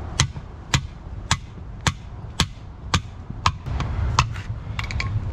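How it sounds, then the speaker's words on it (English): A hammer strikes a pry bar in sharp, evenly spaced blows, about ten hits with a ringing edge, close by, over a low background rumble, while removing a BMW differential output shaft seal. "Get your hammer again."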